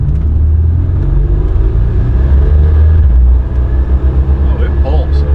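A 1987 Buick GNX accelerates hard with a loud, steady low engine rumble that fills the cabin, the pull easing slightly near the end.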